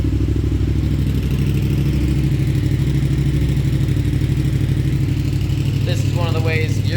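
Yamaha FZ-07 sportbike engine idling steadily while warming up, a continuous low rumble with a faint rattle, close by, with a brief higher-pitched whine near the end.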